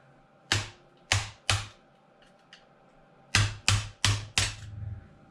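A hammer taps on a Traxxas XRT RC car part: three evenly spaced knocks, a pause with faint ticks, then four more quick knocks, close and sharp.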